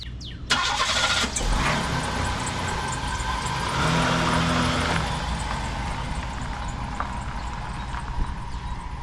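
An old Buick, pulled out of storage on a property with a groundskeeper's Bolens mower, cranks and starts at about half a second. A loud, steady engine sound follows and carries close and constant through the rest of the clip with no talking.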